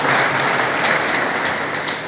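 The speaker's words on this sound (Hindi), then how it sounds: "एक बार जोरदार ताली का अपील करूँगा।" An audience at a Hindi speech on organisational strength breaks into loud, dense applause, continuous and close, sustained for the whole two seconds.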